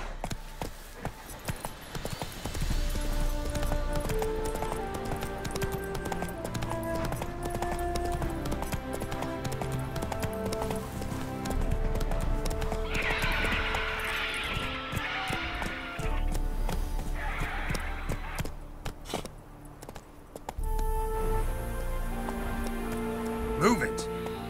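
Horse hooves clip-clop steadily in The Witcher 3, with a whinnying neigh partway through, all set over a musical game soundtrack.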